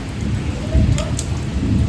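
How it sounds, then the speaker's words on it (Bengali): Steady light rain patters outdoors while a low thunder rumble rolls underneath, with no voices heard. "টিপটিপানি বৃষ্টি শুরু হয়েছে, জানে ওই দেখো মেঘ ডাকছে"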